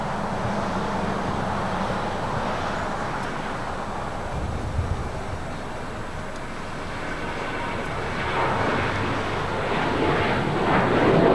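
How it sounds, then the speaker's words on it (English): A United Airlines Boeing 737-900ER takes off from LAX bound for Houston, its jet engines producing a continuous broad roar that holds steady and then swells louder toward the end. "Next takeoff is United Airlines flight 2377 heading to Houston, 737-900 ER."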